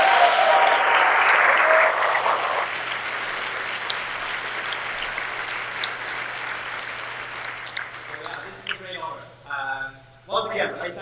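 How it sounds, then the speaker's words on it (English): Audience applause at an awards ceremony, a loud dense burst that thins and fades over several seconds, with a speaker talking as it dies away. "A big applause to Finn"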